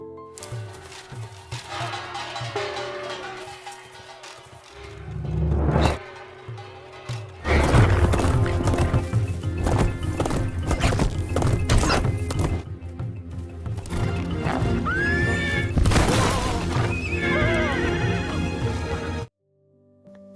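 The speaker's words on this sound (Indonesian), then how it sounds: "Sungwon terjatuh karena kuda yang ditunggangi tiba-tiba tantrum" A startled horse on a hunt neighs and whinnies loudly while it throws its rider, with heavy thuds and clattering hooves, sharp bursts and a brief lull before a long turbulent stretch that ends abruptly.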